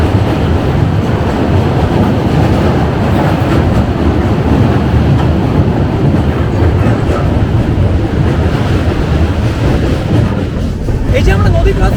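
The 12327 Upasana Express rolls along at speed, a loud, continuous rumble and rattle of wheels and carriages heard from on board, with wind buffeting the microphone and a voice talking over it.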